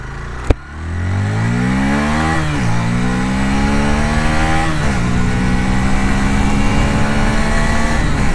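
A 2024 Hero Xtreme 160R 4V, a 160cc motorcycle, revs loudly up close. A sharp starting click is followed by a deep, boomy exhaust note that climbs in pitch several times and then holds, with no talk.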